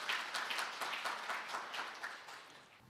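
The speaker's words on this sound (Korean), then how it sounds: "발표해 주신 본부장님께 다시 한번 큰 박수 부탁드립니다." Audience applause at a technology certification forum in Korea, following a presentation: a steady wash of clapping from a seated crowd, fairly quiet and slowly fading over a few seconds, with no talk over it.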